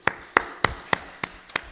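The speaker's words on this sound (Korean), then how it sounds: "우리 1도를 올려주신 분에게 우리 칭찬의 박수하겠습니다." Sharp, separate claps ring out in a church service, about seven quick hits spaced roughly evenly over under two seconds, crisp and fairly close with a short echo.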